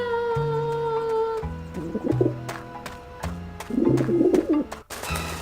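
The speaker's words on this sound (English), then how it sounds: "the pigeons obviously like this dish vent" Pigeons coo in the Grim Fandango video game, gathered around a dish vent. Low, soft coos repeat in uneven bursts, close and clear, over a steady layer of tonal background sound.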